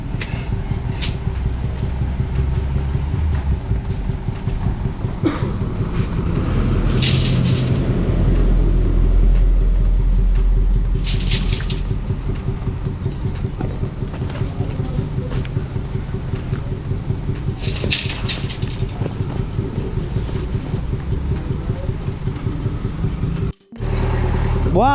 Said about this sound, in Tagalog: Ayan na yung truck.